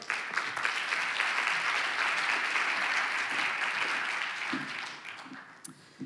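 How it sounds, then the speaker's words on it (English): Crowd applause welcoming a City of Edmonton speaker at a conference afternoon session: a full, even roar of clapping that holds steady, then thins and fades in the last second or so, leaving scattered claps. "Good hand of applause and hand of welcome."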